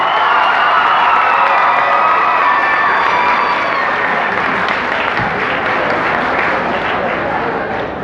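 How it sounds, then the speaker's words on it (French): A large audience at the grand final of an eloquence tournament in Haiti bursts into loud, sustained applause mixed with cheering and shouts, a full crowd roar that fades slightly toward the end. "Sur ce, je vous demande d'applaudir Christy Mathieu."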